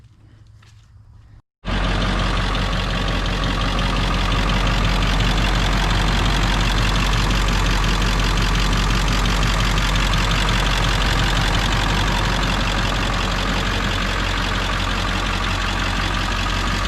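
A truck engine runs after a power steering pressure line replacement: after a quiet second and a half it starts up loud and close, then holds a steady, deep idling rumble to the end.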